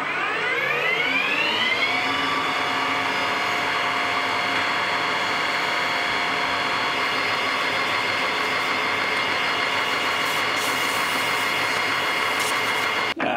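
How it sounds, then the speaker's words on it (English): A metal lathe spinning up and running steadily while a 60 degree threading tool cuts a small bevel on the end of a gyroscope shaft; a loud, continuous whine with rising tones at the start, then an even machining drone throughout. "I'm just gonna use a 60 degree threading tool to put a little bevel on the end"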